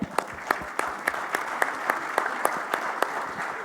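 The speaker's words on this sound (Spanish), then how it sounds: "así que creo que nos merecemos un aplauso enorme por lo que estamos haciendo" Sustained crowd applause at a panel session, a continuous bed of clapping punctuated by regularly spaced sharp, loud claps from someone nearby, keeping an even rhythm throughout.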